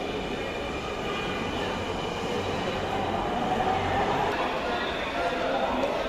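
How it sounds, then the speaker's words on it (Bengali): A metro rail train stands at its terminal station, its steady mechanical rumble and hum filling the platform continuously, with faint crowd voices mixed in. "এই ট্রেন এখানেই শেষ"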